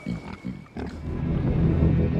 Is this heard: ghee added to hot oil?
no